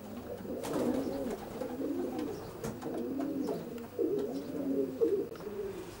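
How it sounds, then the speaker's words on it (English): Racing pigeons coo continuously inside a widowhood loft section holding 16 cots, several overlapping close-by calls in rolling phrases with a few soft thumps, no speech. "Another quality pigeon, Vic, what's this one?"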